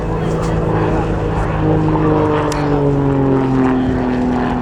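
An RAF display aircraft at the Cosford Airshow pulls up into a hammerhead, its propeller engine droning loudly with the pitch sliding steadily downward as it climbs and slows.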